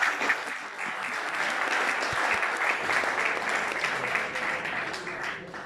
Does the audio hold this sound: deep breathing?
no